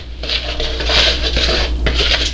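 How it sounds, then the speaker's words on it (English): A whisk scrapes and rubs briskly through raw sugar in a bowl, giving close gritty swishes in quick, uneven strokes with no talking. "And then we take our whisk"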